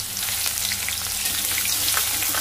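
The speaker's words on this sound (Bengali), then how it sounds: "লাল লাল করে ভাজা করে নেব পেঁয়াজটা" Chopped onions fry in a pan for a Bengali katla fish curry, a close, continuous crackling sizzle with steady hiss and occasional pops.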